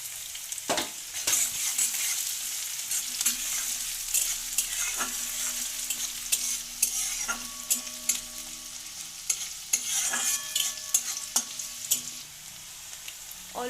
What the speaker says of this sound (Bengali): ডিম আর আলুটাকে ফ্রাই করার জন্য সরিষার তেল দিয়ে দিলাম